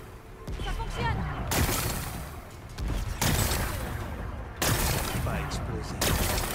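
Heavy cannon blasts sound in Horizon Forbidden West, four booming shots spaced roughly a second and a half apart, each with a long rumbling decay over background game sound and a talking voice.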